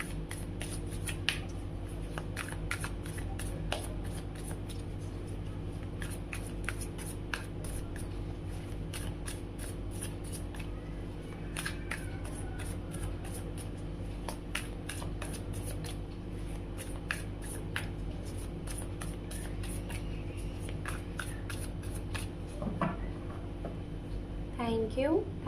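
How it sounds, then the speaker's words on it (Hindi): Tarot cards being shuffled and gathered for a reading, a steady run of soft papery riffles and flicks over a constant low background hum, with a voice speaking now and then. "अब हम आपके पर्सन के लिए यहाँ पे कार्ड कलेक्ट करेंगे"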